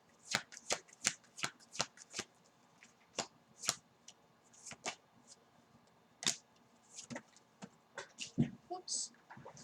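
Tarot cards shuffled and tossed in quick, crisp riffling bursts, close and fairly loud, with irregular gaps and a few scattered slaps of cards landing.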